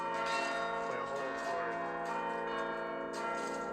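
A 72-bell, six-octave carillon rings as notes are played from its manual keyboard, layered bell tones sustaining and overlapping in a loud, resonant wash.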